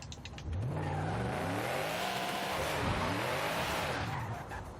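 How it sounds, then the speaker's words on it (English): A Mustang Terminator Cobra in Forza Horizon 5 revs hard while warming its tires, engine pitch sweeping up and down with squealing, skidding tires in a continuous loud burst over nearly five seconds. "We got to get these tires warm so that we can give you a good pass."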